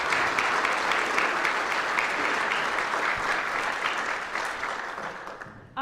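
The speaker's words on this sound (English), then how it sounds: "Let's give our employees a round of applause for that." Audience applause for city employees at a State of the City address in Moline, a dense, sustained clapping from a sizeable indoor crowd that holds steady and then tapers off.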